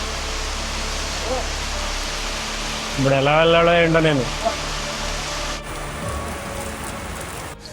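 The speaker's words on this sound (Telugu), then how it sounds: "బాగా వర్షం పెరిగిపోయింది." Steady heavy rain hisses throughout, heard during a train journey, with a person speaking briefly over it partway through before the downpour continues alone.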